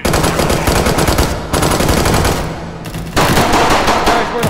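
Rapid automatic gunfire in the VR shooter H3VR's Take and Hold mode, dense sustained bursts up close and loud, with two brief lulls between volleys.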